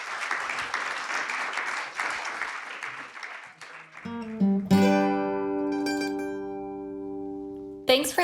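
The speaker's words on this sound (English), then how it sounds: "Let's give a round of applause to our panelists here." An audience applauds panelists after a discussion on sustainable winter access, a steady crowd clapping that thins out midway before sustained musical tones take over.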